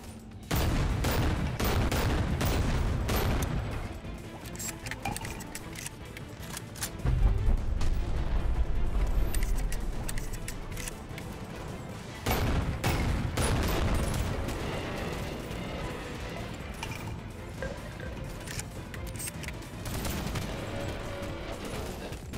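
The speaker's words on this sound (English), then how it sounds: "I have a shotgun." Shotgun blasts and other gunfire in the VR game Bonelab come in dense, loud bursts and rapid volleys that keep going with only short pauses, along with booms and crashes of combat.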